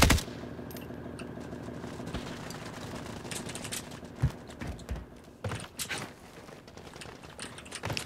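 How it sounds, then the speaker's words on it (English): Video game gunfire, scattered distant shots and a few sharper nearer cracks over a steady background rumble, with no clear talking. "there's shots coming from like deeper downtown"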